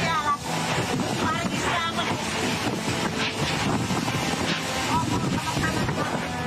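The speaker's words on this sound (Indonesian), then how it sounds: "Hujan deras disertai angin kencang menerjang desa Telogo Agung" Heavy rain pours with strong wind gusting over a village in Bojonegoro, East Java, a dense, loud, continuous roar with muffled voices underneath.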